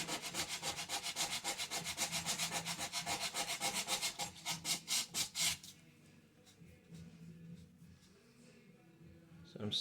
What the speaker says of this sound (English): I'm going to sand that a little bit.